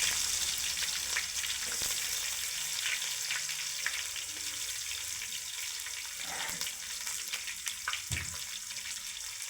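Chopped onion sizzles in a frying pan with curry leaves, part of a Kerala home-style chicken curry, giving a steady, close, loud crackling hiss with a few brief splashy bursts and no talking.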